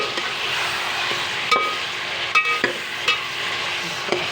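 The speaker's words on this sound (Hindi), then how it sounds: "अब हम इसे अच्छे से भून लेंगे।" Chicken with garlic and ginger frying in a pan after onions, a continuous close sizzle with several sharp scrapes and knocks of a spatula as the pieces are stirred.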